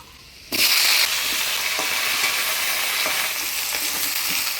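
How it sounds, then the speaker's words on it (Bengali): Taro stems hit hot oil tempered with black cumin and crushed garlic, bursting into a loud sudden sizzle after a quiet half second, then a steady close hiss with light stirring scrapes and no talking. "রসুনটা লাল হয়ে আসছে, এবারে কচুর ডাইগুলো দিয়ে দিব।"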